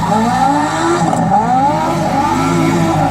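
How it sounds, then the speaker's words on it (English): A motorbike doing a donut at the Ignition Glasgow 2017 show, its engine revving in steady sweeping waves that rise and fall, loud and close, with continuous exhaust roar and no voices. "he's doing a bit of a donut on the bike"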